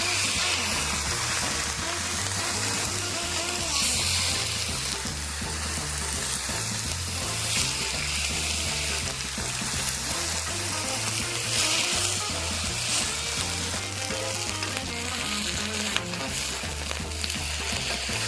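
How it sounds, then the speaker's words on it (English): Pieces of elk meat frying in olive oil in a hot pan, giving a steady, close sizzle with crackling spatters that hold continuously, and faint stirring and handling noises underneath. "we're ready to start frying"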